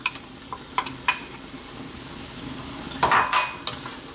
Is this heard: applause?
no